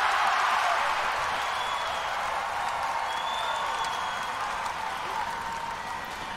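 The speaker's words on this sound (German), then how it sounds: "Kleinen Applaus für euch natürlich an der Stelle." Sustained applause from a crowd, a dense, steady wash of clapping that gradually fades slightly over several seconds, with no talk over it.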